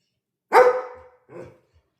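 A sheepdog gives two close barks, a loud full one followed by a shorter, softer one, with silence around them.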